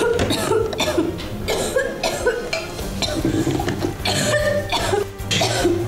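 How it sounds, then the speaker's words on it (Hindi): Repeated loud coughing in bursts from an allergic reaction, over a busy background with clattering kitchen-like noise and music throughout. "जोर जोर से खांसने लगी"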